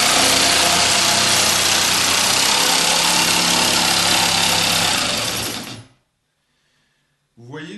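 A jigsaw cuts a straight line through a wooden board along a guide, a loud continuous buzzing rattle that spins down and stops, followed by silence and a brief voice.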